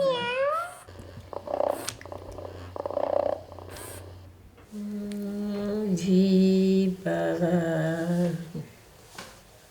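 A robotic therapy cat that mimics an animal's sounds gives several electronic meows with rising and falling tones, and a soft, steady purr runs underneath, fairly close and clear.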